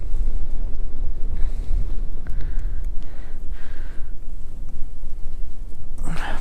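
Strong wind buffets the microphone on an open-water fishing outing, a continuous low rumbling roar with gusting surges, broken by a few faint thin tones.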